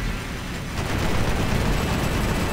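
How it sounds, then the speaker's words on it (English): Gatling cannon fire in the video game Final Fantasy X-2, a dense continuous roar of rapid shots that grows louder partway through and holds steady, with no talk over it. "You know that Gatling Cannon is not really doing much."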